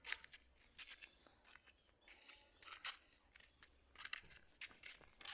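Dogs eat food at a residential area, giving repeated faint crunching and chewing sounds in irregular bursts, with no one talking.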